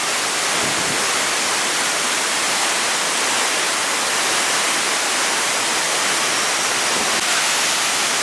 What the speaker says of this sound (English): So this is definitely the most epic waterfall that we've been to.